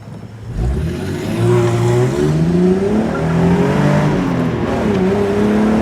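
A car engine revs and accelerates during a test drive, heard from inside the cabin, with the pitch climbing and dipping through gear changes as a loud, steady roar that never drops away.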